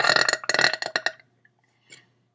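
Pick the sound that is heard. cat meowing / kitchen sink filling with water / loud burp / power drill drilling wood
loud burp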